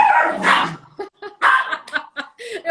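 The neighbour's dogs bark a few times in short, sharp bursts close by, as heard from inside a home during a live online talk.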